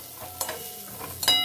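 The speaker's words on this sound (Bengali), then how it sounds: "ভালো করে নাড়াচাড়া করে ভেজে নেব।" Pointed gourd tossed with fennel and only a little oil fries in a pan, giving a brief, quiet sizzle with a couple of sharp scrape-and-clack stirring strokes.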